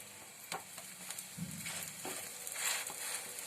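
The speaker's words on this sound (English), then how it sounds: "We have to shallow fry them till they turn golden brown and crisp from each side." Oil sizzles and crackles steadily in a pan as potato patties shallow-fry, with a few soft scraping clicks from a utensil; fairly quiet and close.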